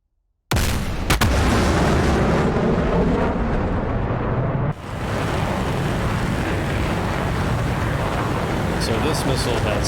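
A loud, sustained roar of an AIM-54 missile launch in the combat flight simulator DCS World, starting abruptly after a brief silence and continuing steadily, with a short dip midway before the rocket noise resumes.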